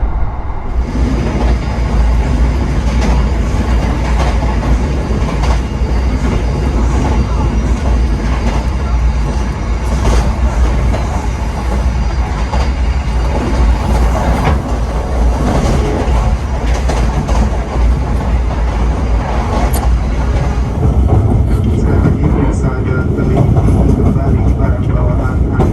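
A Gajayana train carriage rattles and clatters noisily along the tracks, a loud continuous rumble with jolting knocks and deep low-end roar from inside the coach, with faint voices underneath.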